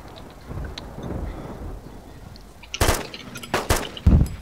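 Gunshots in the survival video game DayZ Origins: three or four sharp, loud broadband cracks late in the clip, spaced about half a second apart, after a stretch of quieter rustling ambience.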